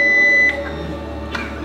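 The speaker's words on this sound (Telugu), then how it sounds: "టైమర్ స్టార్ట్ చేస్తా" A timer is started during a team challenge, giving a steady electronic beep tone that cuts off after about half a second, followed by low room hum and a faint click.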